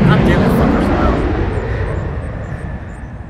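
A loud airplane engine roars in the video game Vigor, a broad, heavy drone that slowly fades, with voices likely talking over it.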